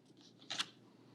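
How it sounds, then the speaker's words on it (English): Scissors snip off excess black paper during a craft project, one quick, faint cut heard close and alone. "trim off that extra black paper we don't need."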